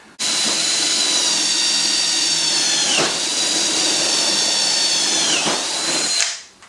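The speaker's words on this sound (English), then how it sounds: "Drill your hole down through." A power drill whines steadily and loudly, its pitch dipping twice as the bit bites into metal, then it spins down and stops.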